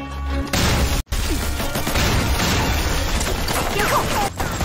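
A grenade goes off in an action film scene, a loud crash and boom followed by a dense spray of debris and crackling impacts, with a brief dropout just after the blast.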